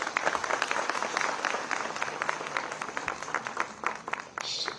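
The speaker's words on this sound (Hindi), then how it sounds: "कृपया तालियां बजाएं।" A crowd applauds at an award ceremony for sanitation workers during a cleanliness fortnight event in Dehradun, with fairly faint, steady clapping from many hands continuing throughout.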